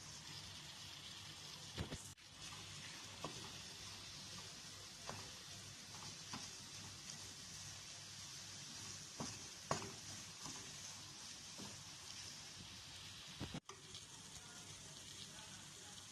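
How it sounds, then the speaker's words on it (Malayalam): Spices sizzle in a pan and are stirred for a Kerala-style chicken curry, a faint steady frying hiss broken by occasional light scraping clicks. "ഇനി ഒന്ന് നന്നായിട്ട് ഇളക്കി കൊടുക്കാം"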